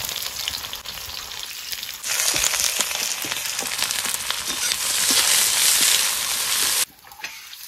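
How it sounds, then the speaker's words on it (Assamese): Onions, bay leaf and chili frying in mustard oil in a village kitchen: a loud, close sizzle that surges sharply as the ingredients go in, then stays thick and crackling before dropping off near the end. "ইফালে মিঠাতেল দি ললো এনেকে চাওক তো ইয়াতে গোটেই পিঁয়াজ চিয়াজ দি ললো"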